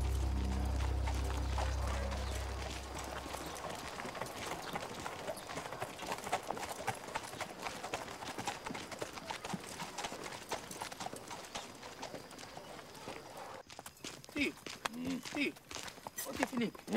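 Horses' hooves clip-clop steadily as riders travel on horseback in a 2006 cangaço film set in the Brazilian backcountry, the irregular hoof strikes running under talk and other background sound.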